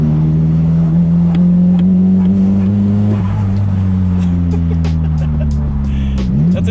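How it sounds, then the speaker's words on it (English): A loud, rumbling S15 car engine with an exhaust leak idles and revs with a deep, uneven exhaust note and a raspy, puffing chatter, close by and steady throughout. "It's just got an exhaust leak, so it sounds like it has an external gate"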